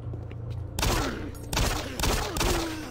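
Pistol gunfire in the video game Doom 3, several loud broadband bursts at roughly half-second to one-second intervals over a low droning game ambience, with no talk.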